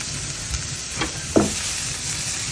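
Onion, garlic and ginger sautéing in a pan, a steady close sizzle broken by a couple of short scraping stirs, with no voices.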